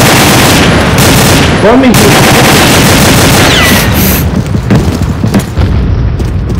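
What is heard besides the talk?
gunfire in a video game shooting match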